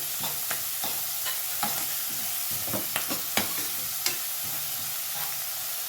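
Finely chopped onion, about a cup, sautés in hot oil for eggplant masala rice, a steady close sizzle broken by repeated clicks and scrapes of a spoon stirring the pan.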